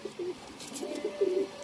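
Deobandi pigeons coo in a few soft, rolling phrases, close by and fairly quiet, with faint background noise between the calls.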